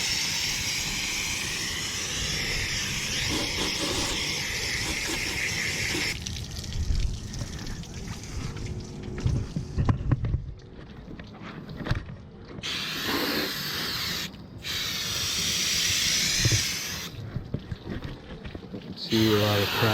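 Water rinses through an air conditioning unit being cleaned so it blows cold air again, a steady broadband hiss of spray that cuts in and out in bursts, close and fairly loud.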